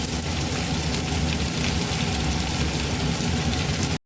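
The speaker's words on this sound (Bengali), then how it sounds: "3টে পেঁয়াজ আমরা বেরেস্তার মতন লাল লাল করে আগে ভেজে নেব" Chopped onions, three of them, frying in mustard oil in a home kitchen pan until golden red like beresta, a steady dense sizzle that holds loud and unbroken for four seconds, then cuts off abruptly.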